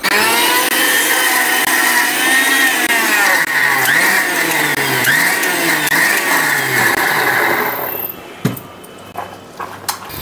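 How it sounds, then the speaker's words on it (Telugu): Mixer grinder blending boiled amaranth leaves into a paste, a loud continuous whirring motor whose pitch rises and falls for about eight seconds before stopping abruptly, followed by a few faint clatters. "ఉడకబెట్టిన తోటకూర అదంతా మిక్సీ చేసి పేస్ట్ లాగా చేసుకోవాలి"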